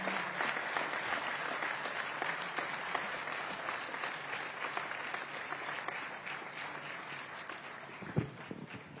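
Sustained applause from a conference audience at a Surat police conclave, welcoming senior police officers with steady, moderately loud clapping throughout and a brief thump near the end.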